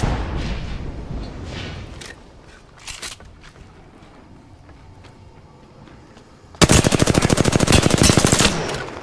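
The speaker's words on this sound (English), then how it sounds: "The second squad is firing at us." Scattered faint shots in the video game Apex Legends give way to a sudden, loud, sustained burst of rapid automatic gunfire near the end.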